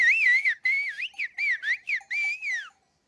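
Whistled shepherd's language from Euboea island, Greece: a series of clear, loud, close whistled phrases with rising and falling pitch glides, broken by short pauses, with no talking.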